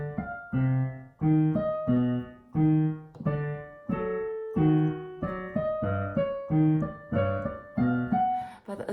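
Piano playing the Plants vs Zombies theme, a bouncy melody over steady low bass notes in a clear rhythmic pattern, solo and close with no talking.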